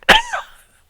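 A single sharp, close cough followed by a softer second burst, loud and alone with no talking.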